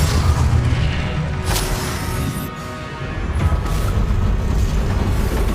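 Fiery blasts from the Confringo spell in Hogwarts Legacy erupt during a duel, with booming crashes and bursts layered over continuous noisy battle din, fairly loud and close.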